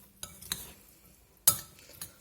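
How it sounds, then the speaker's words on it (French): A spoon stirs a rice salad with tuna and oil in a bowl, giving a few quiet, separate clinks and scrapes, one sharper knock near the middle. "On mélange et la salade est prête."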